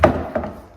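A wooden piece being refinished after water-stain removal is flipped over on a work surface, giving one solid knock followed by a softer second thump, close and dry, with no talking.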